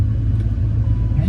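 A V10 engine in a Dodge Ram 2500 truck rumbles steadily at a low, even idle, close and loud throughout with no pauses.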